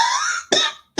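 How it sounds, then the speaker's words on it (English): Two or three harsh, close coughs in quick succession, each a sudden raspy burst with a short gap between, loud and without speech. "this cough is gonna work my nerve"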